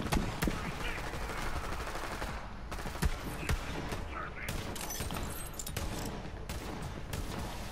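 Rapid gunfire from a bleeding gun in Borderlands 3, a dense run of shots and bursts filling the whole stretch at steady loudness, with game effects and talk mixed underneath.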